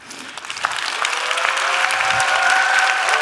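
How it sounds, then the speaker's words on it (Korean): An audience at a talk breaks into applause, the clapping swelling from a few hands to a full, steady round that continues through the end. "박수가 나올 줄 모르네."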